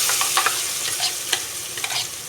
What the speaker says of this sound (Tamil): இந்த அரைச்சி வச்ச பேஸ்ட்டை இதில் ஊற்றிக்கலாம்.